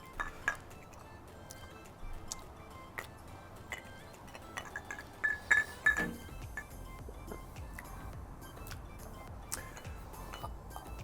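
Fancy drinking glasses clink together in a toast over bourbon, a few faint, bright taps and chimes at a quiet tabletop.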